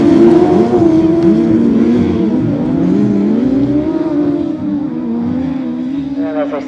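Grasstrack 1000cc racing sidecars roar past at a championship meeting, engines loud and close with rising and falling revving as they sweep down the back straight, an announcer's voice faintly under the din.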